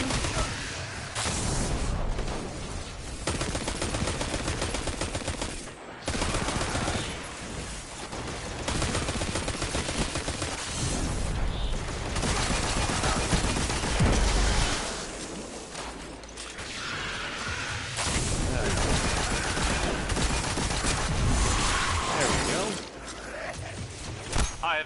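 PS4 shooter game gunfire, dense bursts of rapid shots and blasts that come in long runs with short pauses, loud and close, with a voice talking at times.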